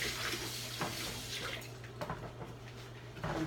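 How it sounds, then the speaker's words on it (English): A ladle is rinsed under a running kitchen tap, a steady hiss of water with a few clinks and splashes against the metal, close and moderately quiet, no speech. "wash the ladle"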